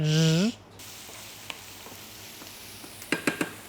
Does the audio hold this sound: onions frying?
yes